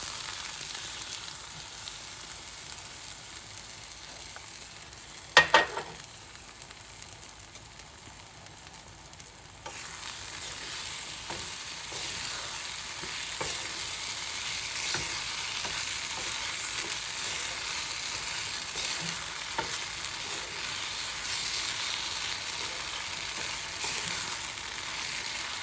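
Prepared sauce poured into a pan of cooking Chinese eggplant, a sharp splash and burst of hissing followed by steady, soft sizzling and frying that carries on alone to the end.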